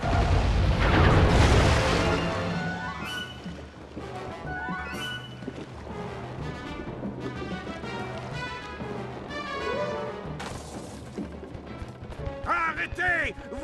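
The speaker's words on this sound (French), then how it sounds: "On charge les canons et qu'on s'apprête à faire feu." Heavy booming cannon crashes open, followed by clattering mechanical sounds, music and voices in a battle in the video game Sly 3.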